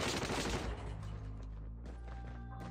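Rapid bursts of gunfire erupt from Call of Duty Mobile gameplay, a dense opening volley tapering into lighter, scattered shots and ringing tones.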